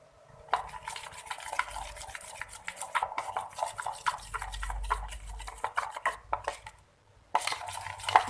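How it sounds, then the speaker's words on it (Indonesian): A spoon stirs thick crispy chicken batter in a bowl for ayam geprek, giving rapid repeated wet clacks and scrapes against the container, close and fairly loud, with a brief pause near the end. "Ini saya aduk-aduk."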